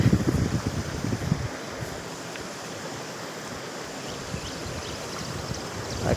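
Rain-swollen stream water rushes steadily toward the Thakkallapalli dam after a night of heavy rain, a continuous broad wash with gusty wind noise on the microphone and no voices.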